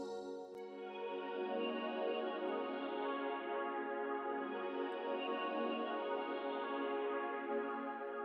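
A Roland JV-1080 Aura soft pad, pitched up and EQ'd, holds one sustained, airy chord alone, swelling gently and evenly for several seconds with a soft, bright shimmer on top.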